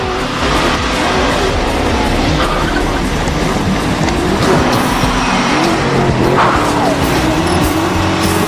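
A race car in a film tears along at speed with a nitrous boost through a final tunnel toward the finish line, a loud sustained roar with squealing tires and skids, no voices.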